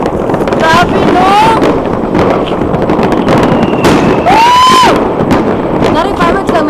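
A loud New Year's fireworks display in Copenhagen, Denmark, fills the air with continuous crackling bursts and rising whistles. Excited voices shout under the barrage.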